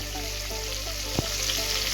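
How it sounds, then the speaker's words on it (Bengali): Onions fry in hot oil for hilsa biryani, a steady close sizzle with faint crackling and a single brief scraping knock partway through. "পেঁয়াজগুলো ভাজা হয়ে গেছে"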